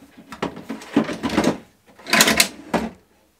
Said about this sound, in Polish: Przymierzymy sobie naszą szufladkę.